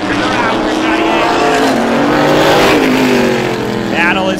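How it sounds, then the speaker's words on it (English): Vintage outlaw modified race cars roar around the Star Speedway oval during a heat race, engines loud and sustained with rising and falling revs as the pack passes, while a track announcer calls the action over them. "Cummins feeling the pressure from Kelly in the 22 car"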